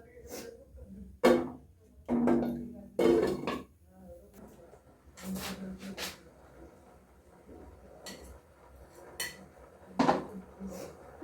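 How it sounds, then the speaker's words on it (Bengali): Pre-fried cabbage goes into a pan of cow's milk for a cabbage dorma: a few loud clattering knocks of utensil against pan, then softer scraping and stirring, with no voice. "বাঁধাকপিটা আমি দিয়ে দেবো, যেটা ভেজে রেখেছি"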